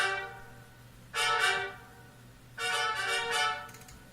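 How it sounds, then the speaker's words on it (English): Added trumpets in the GoldenEye: Source game score sound two sustained brassy notes, each lasting about a second, separated by a short quiet gap. They are moderately loud and play alone without any talking. "I've added some things like additional trumpets"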